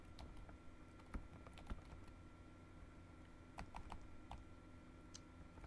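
Someone types a name into a web form on a computer keyboard, producing quiet, close keystroke taps in uneven bursts against a soft room hiss, with no voices.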